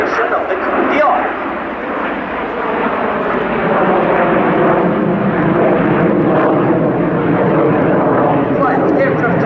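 Frecce Tricolori aerobatic jets roar through a flying display at the Royal International Air Tattoo, a loud, sustained, broad engine rumble that swells slightly and holds steady throughout, with a crowd or commentary voice faintly underneath.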